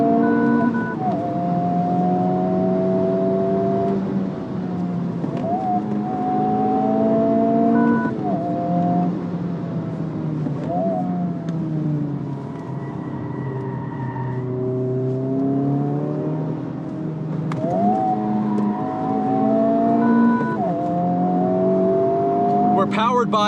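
2023 Honda Civic Type R FL5 with a turbocharged inline four pulling hard, its engine note climbing repeatedly and dropping at each gear shift, steady and loud from inside the cabin, with a voice talking faintly over it.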